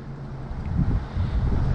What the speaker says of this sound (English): Sorry about the wind, people.